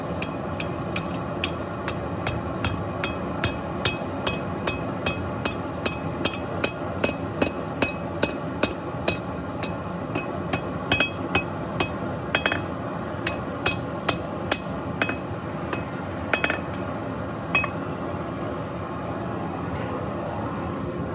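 Red-hot steel is hammered over the horn of an anvil to form a leaf-shaped meat hook, with sharp ringing blows landing in a steady rhythm and then growing sparser, close and loud over a low background hum.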